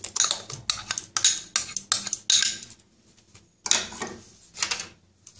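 Spices being stirred into sour curd in a bowl with a metal spoon, giving close, brisk clinks and scrapes in quick bursts, then a short pause before more stirring.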